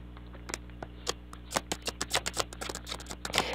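A tarot deck is shuffled by hand, a quick series of crisp riffling card snaps, close and distinct, coming faster toward the end over a low steady hum.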